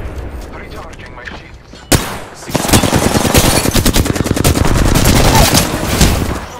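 Automatic gunfire rattles in Apex Legends at King's Canyon: after a sharp single crack, a loud, sustained burst of rapid shots keeps going for several seconds, close and dense, with a voice speaking under it.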